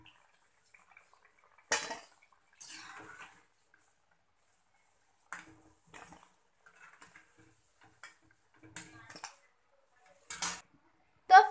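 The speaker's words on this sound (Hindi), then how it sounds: "अब हम इन्हें भी प्लेट्स में निकाल लेंगे" Steamed and fried wheat-flour and maida momos being set onto plates, with sparse clinks and scrapes of utensils and dishes separated by quiet pauses, close and fairly soft.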